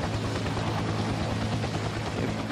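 An AH Air Cobra attack helicopter idling in a video game, a dense, steady rotor and turbine roar that fills the whole range without letup, loud and close with a faint rhythmic chop underneath.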